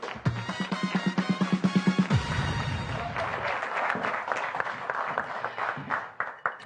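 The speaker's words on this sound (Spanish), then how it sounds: "Un aplauso." An audience claps for a comedy science sketch show: a quick run of rhythmic close claps first, then a broader wash of applause from the crowd that goes on and thins out.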